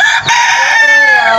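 Chickens crowing and clucking near the microphone, a continuous rooster-like call with bird chatter throughout, in a home setting with chicks around.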